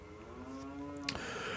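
A cow moos once in a long, steady, low call lasting over a second, fairly close, with a brief click near the end and no talking.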